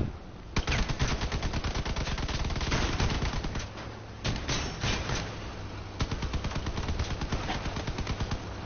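Rapid bursts of automatic gunfire in the vehicle combat game Crossout, loud and close, with dense repeated volleys and brief pauses, no talking.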